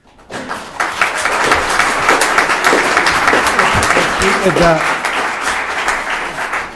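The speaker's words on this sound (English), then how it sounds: "If we could hold the applause, please" Loud, dense audience applause at a town plan commission meeting, rising quickly and sustained for several seconds with sharp individual claps, then easing slightly toward the end; a voice is briefly heard under it.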